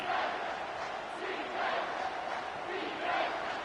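Stadium crowd roaring in a college football video game as the defense lines up on third down, a swelling, pulsing wall of cheering voices at moderate distance, rising and falling in waves.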